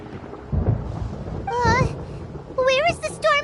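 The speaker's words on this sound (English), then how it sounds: "Paimon hears thunder!" Thunder rumbles in the video game Genshin Impact on PS4, with low, muffled rolls under a steady rain-like hiss, while a high-pitched character voice speaks over it.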